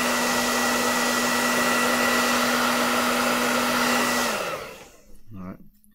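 A heat gun blows hot air onto a Surface Book screen to loosen it for removal, a loud, steady close roar with a fixed hum that cuts off after about four seconds, leaving faint handling noise.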